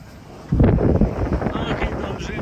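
Wind gusts across a sailboat at sea off the Greek and Turkish coast. After a quiet start the wind hits the microphone with a loud rumbling buffet and keeps blustering unevenly.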